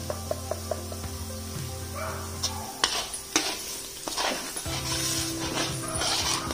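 Paste of freshly grated wet coconut sautéing in oil for bulk home cooking, a steady sizzle with intermittent scraping stirs and utensil knocks, close by, with a dog whimpering and barking in the background.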